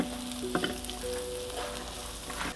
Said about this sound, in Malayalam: ഇഞ്ചിയും ചെറിയുള്ളിയും പച്ചമുളകൊക്കെ നന്നായിട്ട് ചെറിയൊരു ഗോൾഡ് കളറായിട്ട് നന്നായിട്ട് വഴന്നു വന്നിട്ടുണ്ട്